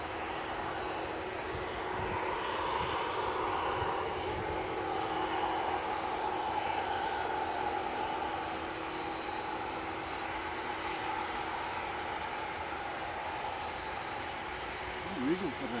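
Brand-new aircraft on a test flight at Edinburgh airport: a steady, broad jet engine roar with a sustained whine, moderately distant and constant throughout, with a person talking over it.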